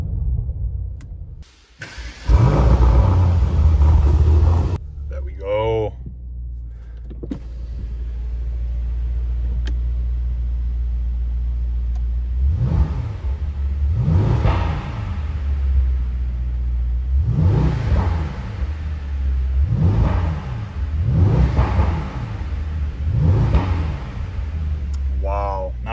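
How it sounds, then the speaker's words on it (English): A Mercedes-AMG GT 4-door Brabus 800 starts up with a loud burst, then its engine idles with a steady rumble before a series of sharp, repeated revs rise and fall. Some brief talk can be heard near the start. "Hold one pedal and start the car while foot is on a brake."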